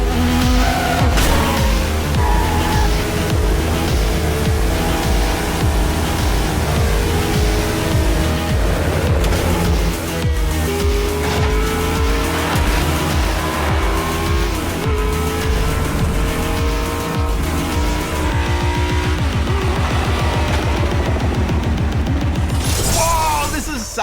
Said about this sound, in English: TrackMania is essentially a time attack racing game